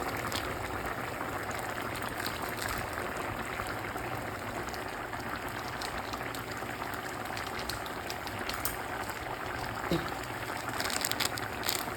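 Pumpkin and fish curry simmers in a pot with a steady close bubbling hiss, joined by faint scattered clinks and rustles. No one speaks.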